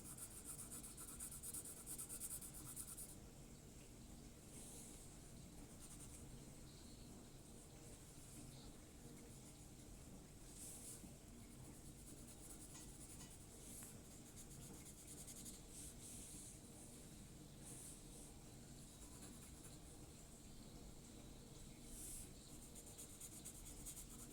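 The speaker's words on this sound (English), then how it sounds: "I'm using very light pencil pressure to smoothly transition between the tones" Graphite pencil lightly rubbing over paper to blend smooth tonal transitions in a penguin drawing, a faint, continuous soft scratching with slight strokes rising and falling, very quiet and close.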